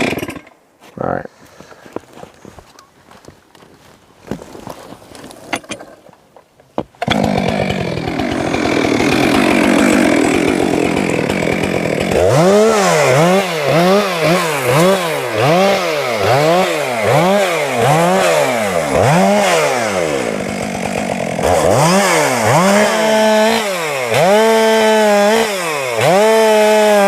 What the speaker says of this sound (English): go back underneath with the chainsaw, clean it up